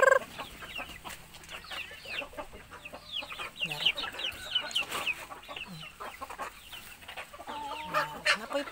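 Native chickens on a farm in Clarin, Bohol keep up a busy mix of clucks and chick peeps, with scattered louder calls rising and falling over a low farmyard background.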